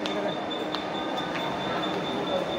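A train at Kalyan railway station gives a continuous loud rumble with faint squeals and clanks, filling the whole moment, with indistinct voices mixed in.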